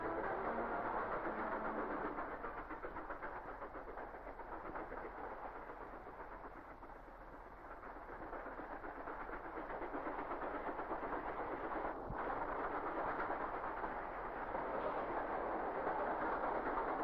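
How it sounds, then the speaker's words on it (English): A heavy 1950s steam locomotive climbs a gradient unassisted, with a continuous rumbling roar and faint rhythmic chuffing, sustained and fairly distant, swelling slightly then easing. "The powerful locomotive takes this gradient without a banker engine."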